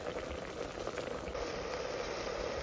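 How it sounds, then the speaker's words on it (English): Water boiling away in a pan with onions while cooking down, a steady close bubbling and hissing that stays even and continuous throughout. "we just want to boil away a little bit more of the water"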